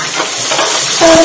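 Capsicum hits a hot pan with garlic and onion for Hakka noodles, producing a brief close hiss of stir-frying that swells louder near the end.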